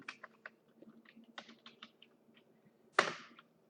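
Keys clatter on a computer keyboard in a quick uneven run of close, light taps, then a single louder, sharper keystroke like the enter key, in a quiet room with no talking.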